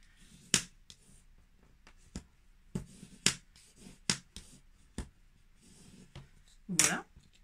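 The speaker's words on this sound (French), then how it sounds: "on va le plier en deux" Paper folded in half for a hippopotamus craft album page, giving a series of sharp, crisp crackles and creasing snaps spaced irregularly, close and fairly quiet, with a longer rustle near the end.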